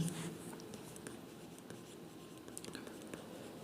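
Pen moving on paper in light, close, intermittent strokes, faint and steady, as accounting entries for a revaluation account are written by hand.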